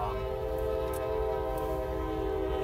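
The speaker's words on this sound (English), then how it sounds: "a train going by." A train rolls by while sounding a sustained, loud horn that holds steady across the whole stretch, over a deep rumbling rail noise with no talk.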